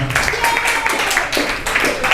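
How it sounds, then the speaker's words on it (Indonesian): Classroom applause for a student's Islamic studies presentation in an eighth-grade class, a short burst of clapping from students mixed with chatter and voices. "Oke, beri tepuk tangan dong."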